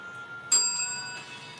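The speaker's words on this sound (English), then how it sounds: "I love that bell." A single bell struck once, sharp and bright, its clear metallic tone ringing on and slowly fading over a quiet background.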